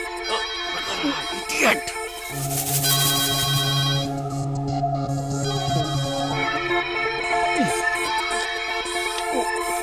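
A phone rings during a Telugu film scene, its repeating electronic ringtone tones sounding steadily throughout, with a low sustained tone joining midway and voices speaking over it.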